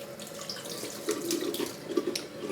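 Steady running water from a faucet filling a sink while a bentonite clay face mask is rinsed off, a continuous close splashing wash with slight flutters and no voices.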